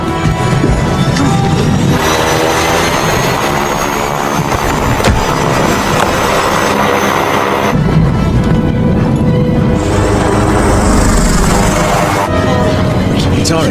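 Loud aircraft engine roar inside a small plane during a dramatic film escape scene, a sustained drone with crashing impacts and shouted voices over it.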